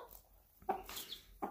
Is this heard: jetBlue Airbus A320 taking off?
no